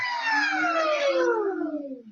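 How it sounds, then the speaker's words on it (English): A Festool sander set to low with a vacuum hose attached gives a close, tonal motor whine that slides steadily downward in pitch over about two seconds before fading out. "I'm running the Festool sander and I've got the back hooked up to it"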